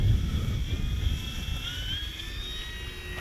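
E-flite P-51D Mustang 1.5m RC plane climbing away after takeoff from grass at two-thirds throttle, an electric motor whine with high rising tones over steady wind rush, fading slightly as it gains height.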